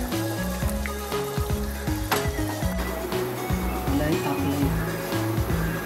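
Malwan-style mackerel (bangda) coconut curry simmers and sizzles in a pan while being stirred, with rhythmic scraping knocks over a steady bubbling background.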